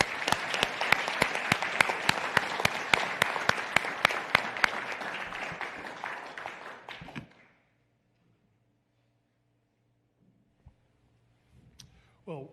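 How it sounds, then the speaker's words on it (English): Audience applause at an advisory board meeting, a room of clapping hands with distinct sharp claps that runs for several seconds and stops abruptly, followed by near silence and a brief voice. "Round of applause."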